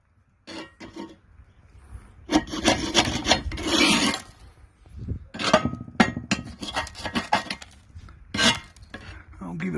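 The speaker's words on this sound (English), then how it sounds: "Get rid of the rust there, heaps more in the stove body" Rust scrubbed off the cast iron hob casting of a Wellstood cooking stove: uneven bursts of harsh, close scraping and rubbing with metallic clatter, in irregular strokes and short pauses, with no talk.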